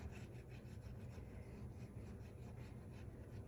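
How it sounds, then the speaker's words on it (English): Steady, continuous rasping scrape of a small sanding tool smoothing a paper card edge, close and even throughout with no talking. "I'm going to get my little sanding tool to get that little edge right there."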